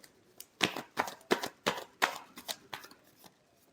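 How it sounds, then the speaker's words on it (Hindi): Tarot cards being shuffled in crisp, rhythmic riffles, a dozen or so close, sharp slaps and flicks in quick succession with no talk. "Last shuffle."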